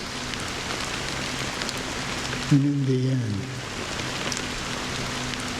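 Steady rain hisses evenly in a scene from the video game Honkai Star Rail, a continuous wash of drops while a voice speaks briefly over it.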